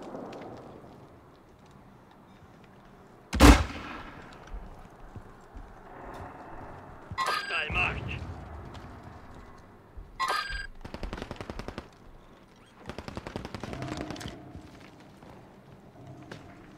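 Unsilenced gunfire in the shooter game Call of Duty Warzone, with a loud sharp shot, then bursts of rapid automatic fire over a faint game background.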